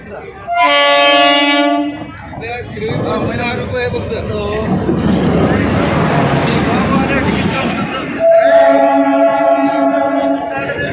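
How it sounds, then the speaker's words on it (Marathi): A train arriving blasts its horn twice, long and loud, with the rumble and clatter of the train rolling in between; people talk faintly underneath. "फायनली आता आपली ट्रेन आलेली आहे"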